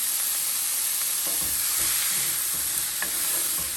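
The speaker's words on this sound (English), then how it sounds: "put them right in that pan. And we're going to saute them probably for about 4 or 5 minutes" Onions, peppers and garlic sauté in a pan with a constant bright sizzle, occasional soft scrapes of stirring underneath, close and without speech.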